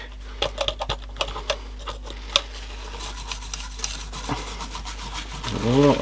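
A toothbrush scrubbing white corrosion off a Pioneer AD-50 car stereo amplifier, with a series of short, scratchy brushing strokes close up and a steady electrical hum underneath.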